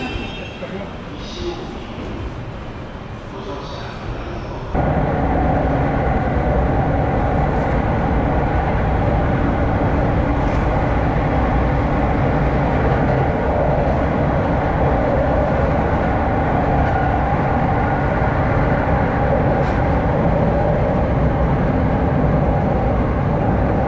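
A Rinkai Line train with a straight-sided body runs steadily and loudly from about five seconds on, a continuous rumble after a quieter opening, with talk present throughout.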